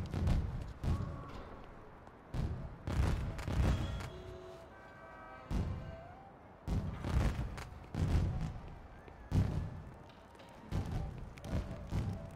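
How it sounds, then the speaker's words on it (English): Fireworks burst in The Godfather video game as a series of irregular thumps and booms, some in quick clusters, heard fairly faintly with gaps of quieter rumble between them. "All these fireworks, you can't really whistle no more."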